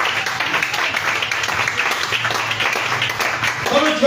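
A church congregation claps in praise of the Lord, a dense, steady burst of applause filling the room throughout, with a preacher's voice faintly mixed in.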